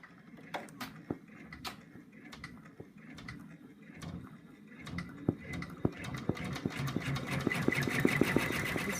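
An embroidery machine stitching a placement line on stabilizer for an in-the-hoop Christmas bird, a quiet rapid mechanical ticking and whirring of the needle that speeds up and grows louder toward the end.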